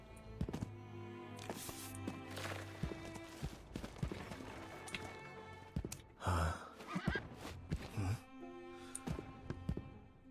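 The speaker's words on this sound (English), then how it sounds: "His footsteps sound so heavy, the heck?" Heavy, thudding clip-clop footsteps of the new hunter in the Identity V video game, with horse-like whinnies, repeating steadily over game music and sound effects.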